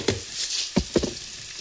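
Mustard seeds and cumin crackling in hot oil in a pan, a soft steady sizzle broken by a few sharp popping bursts, fairly quiet and close.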